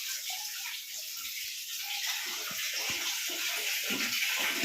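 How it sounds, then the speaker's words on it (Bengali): Water sloshes and splashes continuously around a small child at bath time, a steady near wash of water with scattered splashes and no talking. "তুমি স্নান করছো এইভাবে ভিজে ভিজে?"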